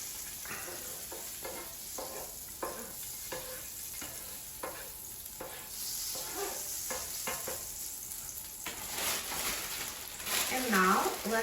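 Butter melts and sizzles on a hot griddle, a steady crackling hiss broken by scraping and stirring taps, growing louder and denser toward the end as the fat heats.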